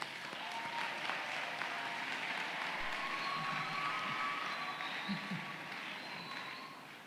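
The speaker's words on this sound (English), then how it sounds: "Let's give them a clap." An audience at a consultation day event breaks into sustained applause, a dense, even wash of clapping from a large crowd that holds steady for several seconds before starting to fade.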